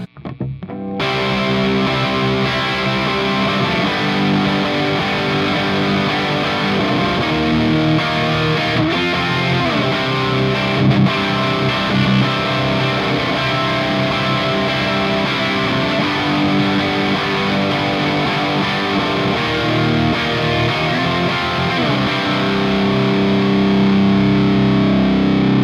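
Distorted electric guitar, a Solar guitar fitted with custom Aero humbucker pickups, played loud and continuous for the whole stretch with thick, saturated chords and riffs and no talking.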